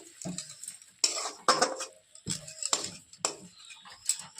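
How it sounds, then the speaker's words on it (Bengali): Mushroom masala curry being stirred in a pan with a utensil, giving several distinct scraping clinks against the metal in an irregular rhythm over a faint sizzle, close and fairly quiet. "এবারে একটু নাড়িয়ে সবটা আবার মিশিয়ে নেব"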